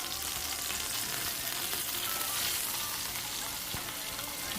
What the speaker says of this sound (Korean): 그렇게 해서 가니쉬를 튀기고 있어요